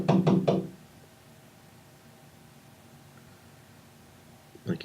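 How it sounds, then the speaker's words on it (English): Three quick loud knocks on a door, followed by quiet room tone and another brief burst of knocking at the end. "So they knock again."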